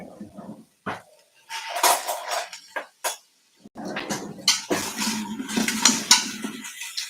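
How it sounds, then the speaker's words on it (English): Utensil scraping and clinking against a pot while chopped vegetables and browning onions are stirred for a vegetable broth, irregular bursts of clatter separated by short gaps, close and moderately loud. "I am going to mix everything in the pot"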